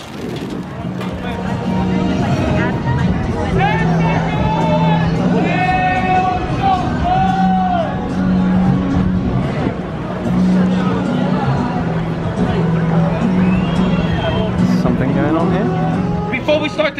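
Busy outdoor crowd chatter in Santa Monica as people gather before a street show, a steady babble of many voices with traffic hum beneath and a few louder individual voices rising over the mix.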